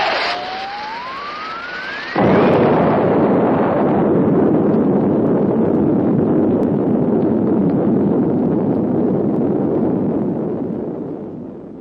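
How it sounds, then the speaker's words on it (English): A 1950s sci-fi film explosion effect: a rising whistle-like tone followed by a sudden loud, sustained roaring blast rumble that slowly decays over several seconds, with no talk. "Looks like there's been some kind of an explosion over in Pelham Woods."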